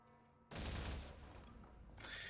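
Sustained burst of gunfire in the video game Minerva, starting abruptly after a quiet moment and continuing loud and dense as rapid overlapping shots.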